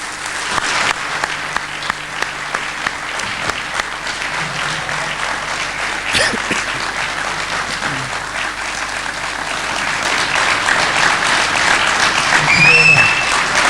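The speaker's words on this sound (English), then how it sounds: "give me a generous round of applause" A lecture audience on human rights and Islam gives sustained, dense applause that holds steady and grows slightly louder near the end, with faint voices mixed in.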